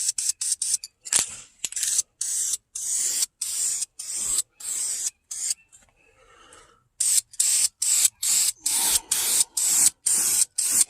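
Rapid, evenly spaced hissing bursts from a spray can laying down clear coat in a Honda Civic engine bay, each short and close, with one longer pause midway.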